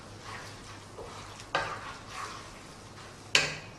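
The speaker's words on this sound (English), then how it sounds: "We're going to stir that through, keep it on the simmer, keep it cooking all the time," A spoon stirs a simmering tomato puree sauce for tikka masala in a pan, soft scraping strokes over a quiet bubble, with two sharper clinks against the pan. No voices.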